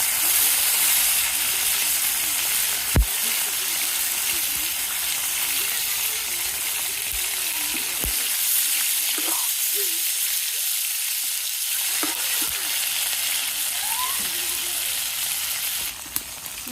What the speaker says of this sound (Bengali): মাছ এক পাশে একটু ভাজি হয়েছে